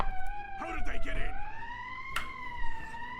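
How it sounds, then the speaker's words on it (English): Fort alarm siren in the Valkyria Chronicles 4 video game, a loud wailing tone rising and falling steadily throughout, with a voice speaking briefly over it. "Sir, the siren's too loud."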